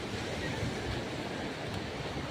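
Sea waves washing on a seashore, a soft, broad rushing wash at moderate distance, fairly steady and faint, with no talk.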